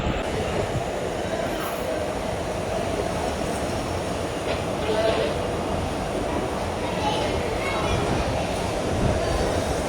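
The Palaruvi Express standing at platform 1 of an Indian railway station, heard as a steady, loud rumble of train and platform noise throughout, with a voice talking over it.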